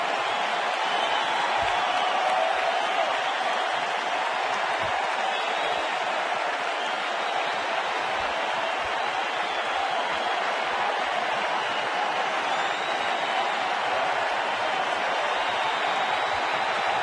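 A large baseball stadium crowd in Chicago, Phillies at Cubs, makes a sustained broad roar of cheering and noise, even and continuous with no breaks.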